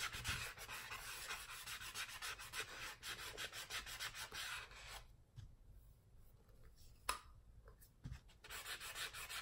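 Sanding a tumbler by hand, a steady dry rasping rub that runs continuously for several seconds, then breaks into a few short scrapes and pauses before the sanding resumes.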